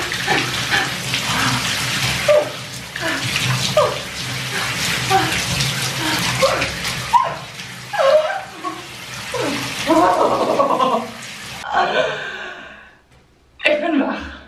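Cold shower water runs steadily in a bathroom, a continuous hissing spray close by, with breathy gasps and a few sighs over it before the flow cuts off near the end.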